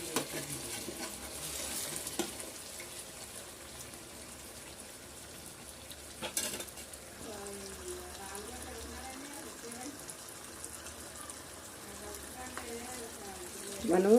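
Fish curry pieces being turned in a pan with tomato, soft stirring and scraping over a faint steady sizzle, with a couple of louder clatters and a voice talking in the background.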